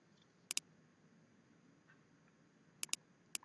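Quiet computer mouse clicks in a near-silent room: one quick double click early on, then two more double clicks close together near the end.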